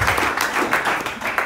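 A church congregation applauds in a continuous burst of loud, rhythmic clapping that pulses steadily from start to end, with no voice standing out.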